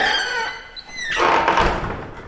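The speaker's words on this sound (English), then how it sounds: "touches the door." A house door is touched and pushed open with a soft thunk and a creaking, scraping swing that swells and lingers, close and clear with no talk, in a horror audio drama.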